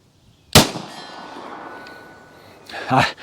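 A 9mm pistol shot from a TP9SFx, a sharp crack followed by a metallic clang from a steel target at 25 yards, with a second burst of noise near the end, outdoors.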